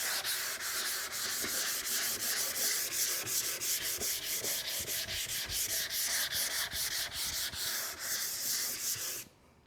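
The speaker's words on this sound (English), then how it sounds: "So I'm just sanding with 220 grit." Hand sanding a wooden toolbox with 220 grit sandpaper wrapped on a wood block, a steady rhythmic back-and-forth scratching stroke after stroke, close and continuous before stopping abruptly at the end.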